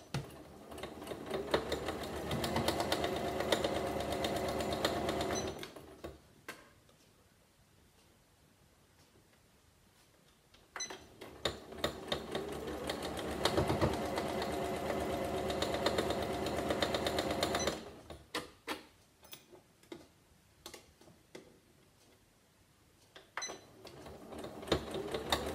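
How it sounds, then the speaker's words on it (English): A sewing machine stitching patchwork pieces for a star cushion runs in two loud, steady bursts of fast mechanical clatter with a slight rattle, separated by quieter pauses. "it's sewing okay. Just making a bit of a rattle."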